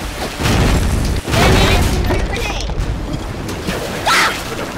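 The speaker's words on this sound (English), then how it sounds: "Now let me throw my grenade at" Grenade blasts in the Pirates of the Caribbean Online video game, a couple of heavy booms with crashing bursts mixed into game sound and a speaking voice.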